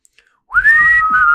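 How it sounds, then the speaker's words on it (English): A single sustained human whistle, a steady bright tone wavering slightly in pitch, begins after a brief near-silence and holds loud and close for about a second. "Can anyone whistle?"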